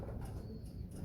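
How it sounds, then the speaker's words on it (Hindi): Soft, low cooing from blue-ringed fancy pigeons kept by a pigeon breeder, a few short murmuring coos close by with no one talking. "ये नीले रिंगों वाले कबूतर"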